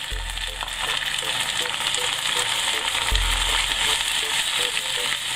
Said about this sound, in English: Keep stirring till the tomatoes blend with the onions.